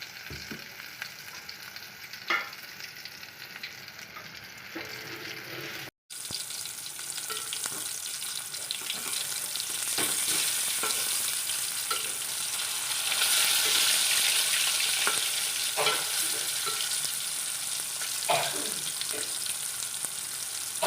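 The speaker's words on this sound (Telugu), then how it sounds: "చూసారా ఎలా ఫ్రై అవుతున్నాయో ఫిష్ పీసెస్." Fish pieces sizzle and crackle steadily in hot oil, Konaseema-style fish fry, a continuous close frying hiss with occasional pops and stirring clinks, no talking.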